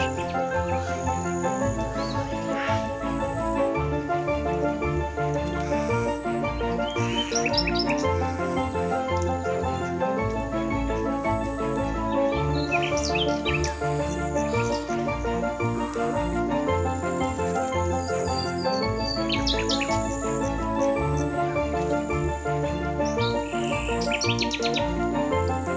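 Birds chirp and sing in scattered bursts in the Karacabey floodplain forest wetland, over a dense, steady bed of background sound, with calls coming and going throughout.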